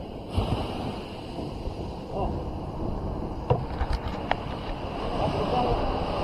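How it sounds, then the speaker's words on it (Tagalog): Ocean waves wash steadily at a beach cove in Zambales, a constant hissing roar mixed with wind buffeting the microphone and faint voices in the background. "Medyo malaki-laki pa ang alon mga katinik."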